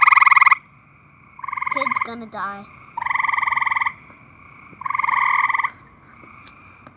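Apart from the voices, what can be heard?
backyard frogs croaking by the poolside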